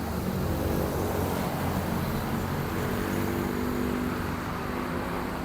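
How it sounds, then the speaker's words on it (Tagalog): Dense traffic on EDSA roars past continuously, a broad steady wash of engine and tyre noise with low rumbling vehicles close by and no gaps. "Grabe yung traffic ng EDSA ngayon"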